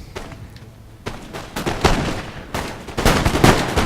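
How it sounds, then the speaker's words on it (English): Dragoon cavalry in a Total War battle fire repeated musket volleys at Bavarian line infantry, a string of loud crackling shots that grows denser and louder toward the end, with no voices over it. "I'm going to let my dragoons fire one more time"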